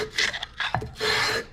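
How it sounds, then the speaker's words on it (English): Abrasive rasping of sanding on a metal flange of an FJ40, in several short back-and-forth strokes and then one longer steady pass, close and fairly loud. "So we're just gonna keep sanding it"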